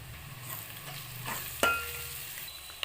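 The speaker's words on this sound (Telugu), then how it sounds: "దీంట్లోనే కరివేపాకు కూడా వేసి కలిపేయండి ఒక స్పూన్ పసుపు అయితే వేసేయండి వేసి బాగా కలపండి" Onion masala with curry leaves and turmeric cooks in a pan and is stirred. A constant close sizzle carries soft scraping and one sharp utensil clink midway.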